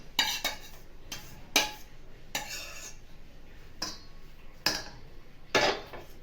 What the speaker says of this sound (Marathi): रवा सर्व या घमिलीमध्ये ओतून घेत आहोत